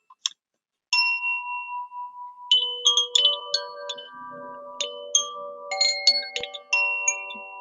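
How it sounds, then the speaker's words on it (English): Chimes struck one after another, bright metallic tones ringing and overlapping as they sustain, with a short pause after the first strikes before a cascade of shimmering notes builds. "So when I play this chimes"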